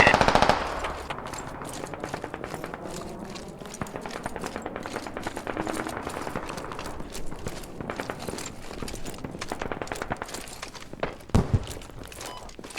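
Gunfire in the tactical shooter game Squad, from an insurgent sniper scenario: rapid bursts and single shots crack in quick succession throughout, mixed with footstep-like thuds and clatter, loud and close.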